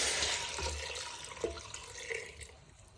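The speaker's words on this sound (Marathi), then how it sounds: "आणि एवढं पाणी घालत त्याच्यामध्ये" Water pours into a pressure cooker holding drumsticks, tomato pieces and garlic, a soft close splashing stream with a few small drips, fading slightly over a few seconds.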